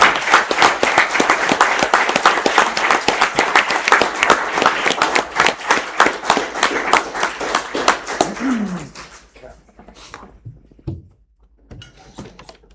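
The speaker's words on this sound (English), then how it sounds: "Let's give these guys a round of applause" Steady applause fills a county board of supervisors meeting room, a dense run of many hands clapping together that thins out and fades to a few scattered claps and room noises.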